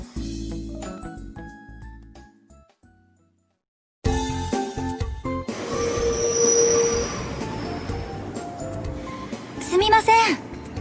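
At a railway station, a train rolls in with high wheel squeal and rumbling carriage noise, loud and close, after a short stretch of quieter sound that ends in near silence.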